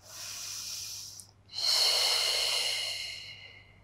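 A deep, steady breath during an intermediate Pilates mat session: one airy inhale, a brief pause, then a longer, louder breath that fades out, close and alone.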